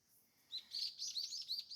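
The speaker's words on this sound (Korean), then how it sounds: "지저귀는 소리가 아주 청하게 맑다" Faint, high bird chirps repeat in a quick, trilling series after a quiet moment, sounding somewhat distant in an otherwise calm mountain setting.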